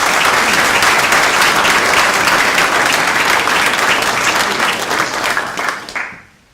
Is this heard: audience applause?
yes